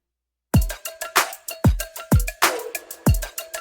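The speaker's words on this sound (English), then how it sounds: "my drums, they sound like this" A punchy produced electronic drum beat for a hard-hitting K-pop boy-group style track, with deep booming kicks and crisp snares and hats in a steady groove, heard alone after a brief silence.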